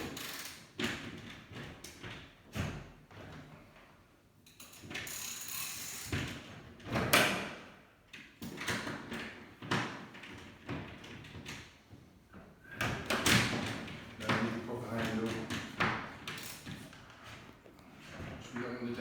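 A sliding screen partition at an activity centre rolls across its track and settles into place with thuds and taps, fairly quiet, mixed in with nearby talking.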